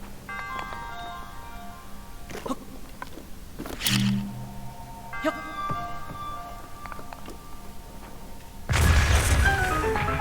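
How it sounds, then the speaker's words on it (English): A remote bomb detonates in Zelda: Breath of the Wild, a loud, sudden blast near the end that follows a stretch of soft game chimes and tones, its heavy rumble lingering to the close. "A bomb that can be detonated remotely."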